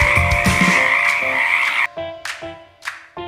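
Several frogs croak, first in a dense overlapping chorus, then as a few separate calls spaced apart, fairly loud and near, with no voices.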